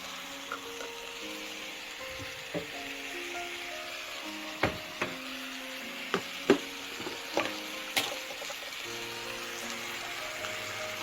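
Pumpkin frying in a pan with mustard, tomato and chili masala paste, a low steady sizzle broken by scattered clicks and knocks of stirring, with a faint tonal hum in the background.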